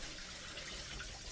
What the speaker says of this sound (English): Fill in the P-trap with antifreeze